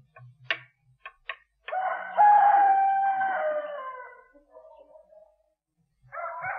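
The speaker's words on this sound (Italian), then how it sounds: "Il canto del gallo. È l'alba." A rooster crows at dawn, a long loud call that rises and then trails off, with a few short knocks and faint sounds before it and a brief burst of noise after.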